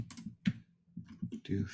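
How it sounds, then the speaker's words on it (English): Short bursts of clicky keystrokes on a computer keyboard while entering values in modelling software, spaced in quick clusters with gaps, fairly close and quiet. "Type in straight away"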